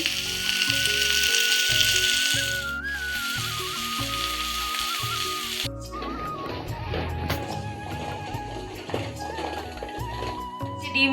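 Cauliflower, potato and onion stalks fry in a pan with a steady, close sizzle that runs the whole time, heard under background music with a few light taps of utensils.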